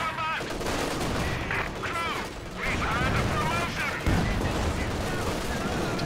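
Anti-tank gun fire and other combat explosions in the real-time strategy game Company of Heroes 2, with repeated sharp blasts and clattering gunfire under continuous commentary.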